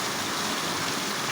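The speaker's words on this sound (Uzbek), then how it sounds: "yomg'irni qaranglar a" Rain pours down in a steady, dense hiss of falling water, continuous and fairly faint, with no voices over it.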